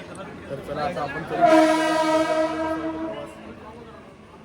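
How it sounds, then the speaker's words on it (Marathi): A local train arrives at a station on the Mumbai–Lonavala line, approaching with a rising rumble and sounding a long, loud horn blast, then the clattering noise gradually fades. "ही आलेली आहे ट्रेन"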